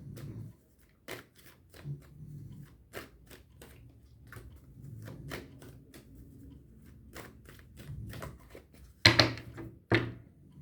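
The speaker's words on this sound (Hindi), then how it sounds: "तो एक बार और थोड़ा सा देख लेते हैं, कुछ और कार्ड्स ले लेते हैं आपके लिए।" Tarot cards being handled and shuffled close by, with a series of sharp, irregular riffles and flicks and a few louder bursts near the end, all over quiet background without talk.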